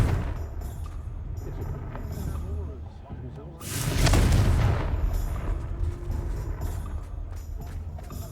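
A Confringo fire spell bursts in Hogwarts Legacy, a sudden loud boom and whooshing blast a few seconds in, rising out of steady game ambience and fading into a lingering rumble.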